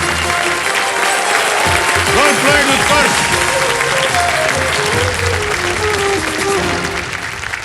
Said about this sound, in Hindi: ताली बजिए, बिल्कुल सही जवाब।